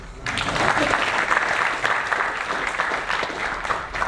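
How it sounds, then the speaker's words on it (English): An audience breaks into applause after a short quiet moment, the clapping swelling quickly and holding as a full, steady round of claps for several seconds. "a big round of applause for them"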